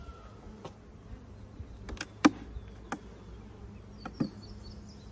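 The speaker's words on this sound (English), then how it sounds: "There's a lot more bee volume in here than there was the other day." Honeybees buzz inside a queenless hive opened for inspection over a double screen board. A soft, steady hum runs throughout, broken by a few sharp knocks and taps of equipment.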